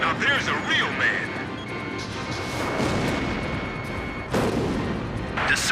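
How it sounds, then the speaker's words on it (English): Heavy cannon fire in the combat flight game Ace Combat 5: The Unsung War, with repeated booming blasts and crashing impacts rolling under continuous engine and battle noise, while voices talk over the action. "Damn, they've got cannons."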